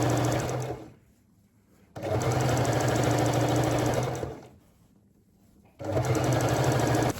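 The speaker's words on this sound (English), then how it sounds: "you can place your bias tape like this and sew it all around and come back when that is done" A sewing machine stitches bias tape around the curved edge of a fabric bag in three steady, loud bursts of rapid whirring, separated by short quiet pauses, close up and with no talking.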